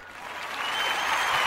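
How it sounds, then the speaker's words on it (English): An audience applauds to honour fundraisers at a community meeting. Dense clapping from many hands rises steadily and grows louder over its short length. "Let's give them a round of applause."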